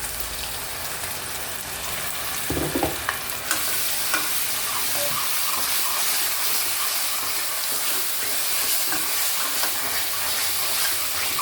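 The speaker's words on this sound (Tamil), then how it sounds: "மசாலா நல்லா ஃப்ரை ஆகணும்." Masala frying and being stirred in a pan while cooking an afternoon meal, a steady loud sizzle throughout with scraping spoon strokes around the third second, no talking.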